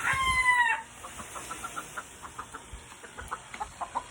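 A young rooster stag at a gamefarm gives a short crow up close, followed by a series of soft, evenly spaced clucks.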